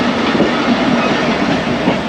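The Pak Business Express passenger train on its Karachi to Lahore run rolls along the rails with a loud, steady rumble and a faint clatter of wheels, heard up close from on board.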